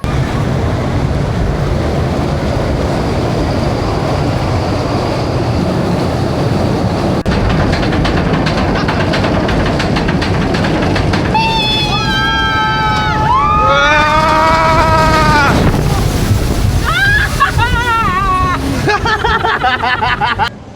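A roller coaster runs at VinWonders Phu Quoc theme park in Vietnam, its cars rattling and clacking loudly along the track amid crowd noise, with riders' screams rising over the roar in the later part.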